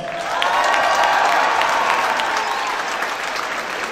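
A school assembly crowd applauds loudly and steadily, with cheers and whoops rising above dense clapping throughout.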